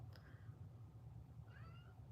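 Kitten meows for food, two faint rising calls, the second longer, over a steady low hum of room noise.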